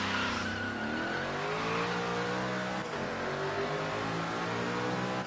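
Engine of an off-road Ford GT in the racing game Forza Horizon 3, a loud continuous roar with rising and falling revs as the car drives, tyres scrubbing, with no talk.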